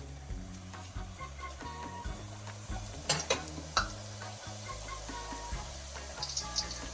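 Corn tortillas frying in a pan, a couple at a time, for shredded beef enchiladas. A steady, soft sizzle runs throughout, with a few faint clinks and taps and no talking.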